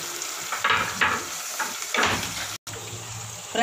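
Ginger hitting hot oil while fish gravy is being made: brief sizzling and stirring bursts that repeat across the few seconds, with a short dropout near the end and a cluttered kitchen background.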